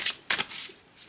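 Tarot cards are pulled out of a deck with two quick papery slides and swishes up close, followed by faint rustling, and no one talks.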